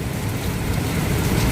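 Steady rain pours down outside a 27th-floor room at a Kuala Lumpur hotel, a dense, even hiss that holds at a constant level throughout.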